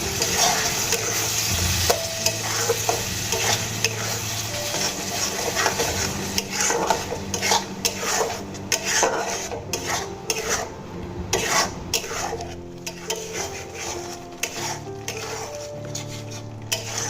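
Tomato paste and spices for a Bengali katla fish kalia are stirred and fried in a pot, with a continuous rasping scrape of the spoon and clinks of metal over a low sizzle and no voices.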